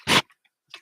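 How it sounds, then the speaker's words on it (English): A dog gives one short, loud bark, followed by a brief fainter yelp after a pause. "Dog barking."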